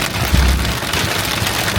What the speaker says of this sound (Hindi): बहुत ही तेज बारिश है यार